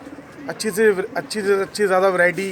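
Patiala pigeons from Punjab coo in soft, rolling, repeated calls close by, heard under someone speaking.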